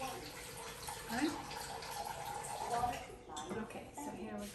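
Tap water runs steadily into a kitchen bowl while kofteh stuffed meatballs of bulgur and meat are mixed, a close, continuous splashing hiss under people talking.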